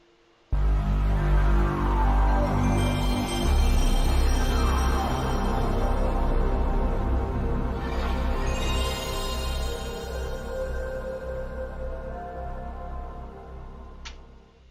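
A Sony PlayStation console plays its startup sound loudly: a sudden swelling synth chord with shimmering high tones that sustains and slowly fades over about fourteen seconds, ending with a brief bright chime, no talk.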